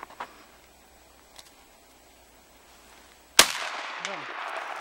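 A single sharp, loud blast from an MP-155 shotgun fired outdoors, bursting out after a few seconds of quiet ambience and trailing off into a noisy decay.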